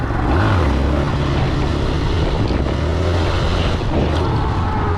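A motorcycle engine roars loud and close during a stand wheelie, steady and heavy, with a slight pitch swell near the start and wind rush over the top.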